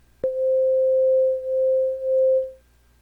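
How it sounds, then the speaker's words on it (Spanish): A pure sine test tone from FL Studio starts with a sharp click and holds at one steady pitch for about two seconds, with a slight swell and dip in loudness, then fades out cleanly. "es una onda sinusoidal"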